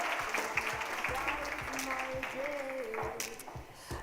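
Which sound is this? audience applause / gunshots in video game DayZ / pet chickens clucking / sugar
audience applause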